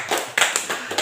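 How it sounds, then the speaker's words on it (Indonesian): An audience at a wayang performance claps in a brief burst of a few distinct, close claps. "Ya kita tepuk tangan."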